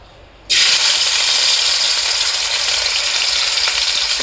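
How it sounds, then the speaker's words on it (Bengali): A loud, steady sizzle of morola fish frying crisp in hot oil bursts in after a quiet half second and continues unbroken to the end. "কড়া কড়া করে মাছগুলো ভেজে নেব।"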